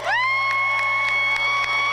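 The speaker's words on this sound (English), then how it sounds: "How about another round of applause?" Crowd at the 16th annual Buddy Walk, a Down syndrome awareness event, cheering loudly for about two seconds, with a steady tonal whoop or horn-like note rising at the start and held over the crowd noise.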